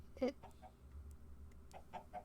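Chicken clucks from a video game, a few short soft clucks and squawks spaced across a couple of seconds over a quiet low background hum.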